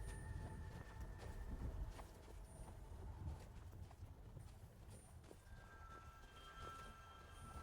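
Goat hooves clopping over ground in Skyrim, a steady irregular patter of steps under a noisy ambient bed with faint tonal game sounds, no speech.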